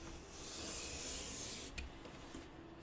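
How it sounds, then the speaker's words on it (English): A sharp knife slices a bevel along the edge of a foam helmet piece, giving a soft, continuous rasping drag that lasts a couple of seconds and ends with a small scrape, quiet and close. "I'm going to start by just cutting one of the sides, and I'm going to put a little bit of a bevel on it"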